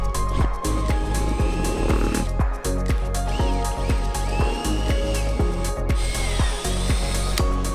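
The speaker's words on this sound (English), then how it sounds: "we got our 4 holes drilled, very easy" A power drill bores 10mm holes in an Acura TL Type-S front lip, a loud continuous whine broken by rapid regular clicks and bursts of grinding as the bit works through the material.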